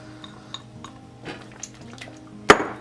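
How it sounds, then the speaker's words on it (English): A spoon stirs cornstarch slurry into apricot pie filling in a pot, with soft scrapes and light clinks building to a sharp metallic clank near the end, close and quiet without talk. "Add in our slurry now. Make sure you're mixing it fully"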